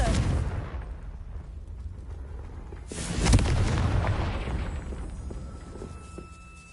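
In Hogwarts Legacy, a Confringo spell sets off one heavy booming explosion midway, loud and close, that rumbles and fades slowly over the following seconds against a softer blast decaying at the start.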